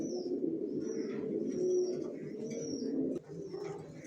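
A pair of grizzle racer pigeons, a male and a female, coo in soft repeated rolling phrases close by, with faint chirps from other birds in the background.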